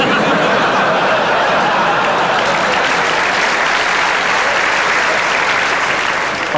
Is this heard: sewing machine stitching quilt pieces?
no